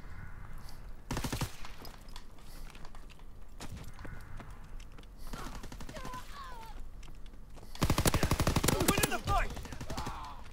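Rapid automatic gunfire from a Call of Duty Hardpoint match, with bursts of rattling shots recurring throughout and the loudest, densest volley near the end, loud and close against a steady game backdrop.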